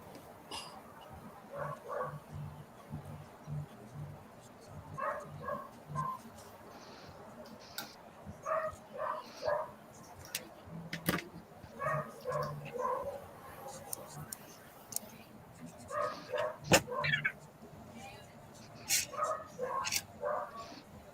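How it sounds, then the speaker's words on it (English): A dog barks in short, faint bursts repeated through a quiet indoor space, with low voices and light ticking underneath. "Who's barking? Barking."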